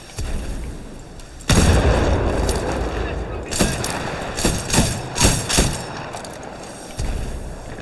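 In the video game Titanfall 2, a grenade blast booms loudly, followed by a run of heavy thuds and gunfire bursts in a busy combat mix, with voices talking over it.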